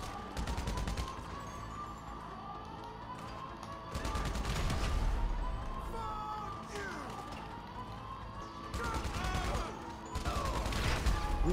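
Rapid video game gunfire rattles in dense bursts with bangs from grenade launchers, loud and nearly continuous, swelling into heavier barrages around the middle and end, with no voices over it.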